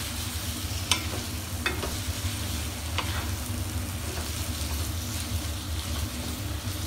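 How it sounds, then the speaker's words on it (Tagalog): Meat sizzles in a frying pan for Hayashi rice while a utensil stirs it, a steady close frying hiss broken by a few soft scraping strokes. "sunod na natin yung karne. Tapos haluin natin."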